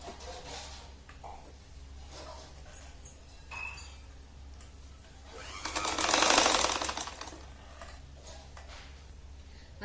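Sewing machine stitching a waistband onto a traditional round sari, running in a faint steady whir through the clip and swelling to a louder, closer burst of stitching near the end, with a low hum underneath.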